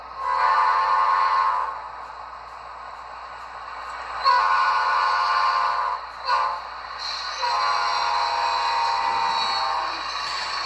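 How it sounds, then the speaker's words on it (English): An HO scale Amtrak F40PH model locomotive with an ESU LokSound decoder sounds its Doppler-effect horn: several loud, sustained multi-tone blasts, including one long call and a short toot, playing clearly with no talk. "F3 is a Doppler horn."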